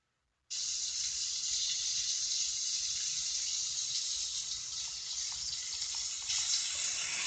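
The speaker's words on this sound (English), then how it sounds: "that is indeed the sound of bacon sizzling in a pan" Bacon sizzles in a frying pan: a loud, steady, close hiss starts abruptly and runs without a break for about seven seconds, with nothing else heard.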